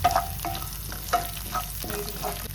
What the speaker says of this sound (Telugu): కరివేపాకు వేసుకొని ఒక నిమిషం పాటు వేయించుకోవాలి